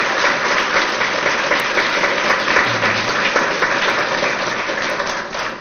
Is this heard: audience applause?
yes